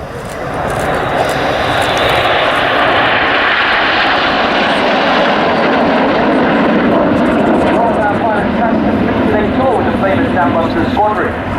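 Red Arrows jets flying a display formation, trailing smoke and forming a Lancaster bomber shape at RAF Waddington, give a loud, steady, sustained roar. A commentator talks throughout.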